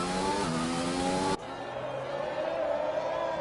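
Race car engine in a racing video game, running against an AI car on the Singapore circuit: a loud, sustained high-revving drone that shifts sharply to a lower steady engine tone partway through, with no other sounds over it.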